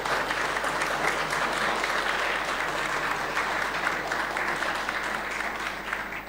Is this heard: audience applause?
yes